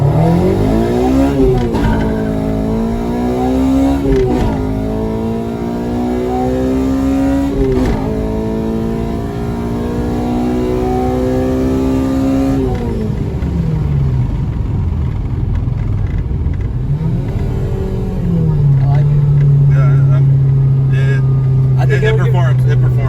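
A Honda Civic DX with a swapped K20Z3 engine and manual conversion revs repeatedly up to its rev limiter, climbing and falling in loud sweeps, with someone talking over it.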